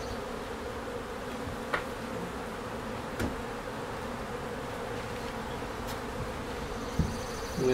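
Honey bees buzzing steadily around open hive frames during a walk-away hive split, a dense continuous hum close by with occasional faint clicks and knocks of frame handling.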